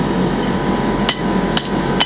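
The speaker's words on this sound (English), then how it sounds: "Sit over here on the anvil and take my hammer" Three sharp hammer blows on metal at an anvil, spaced about half a second apart near the end, ringing bright over a steady background hum of a workshop.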